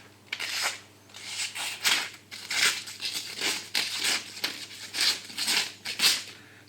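A Decathlon Sika 100 survival knife slices through a sheet of paper in a series of scratchy, rhythmic strokes, each a short rasping tear, close and alone.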